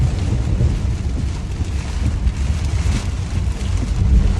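Rain and thunder from inside a car driving to work on a rainy morning: a steady, loud low rumble of road and wind noise with rain wash throughout, no voices.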